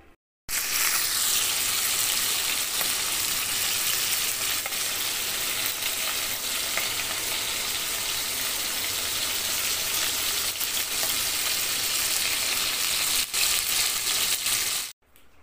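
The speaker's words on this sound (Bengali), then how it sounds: "তো আস্তে আস্তে আমার কাঁকড়ার বডিগুলো ভাজা হয়ে গেছে, মানে কাঁকড়াগুলো ভাজা হয়ে গেছে।" Crabs fry in oil in a pan on a gas stove, a steady crackling sizzle with occasional stirring clicks that holds for about fifteen seconds and then stops.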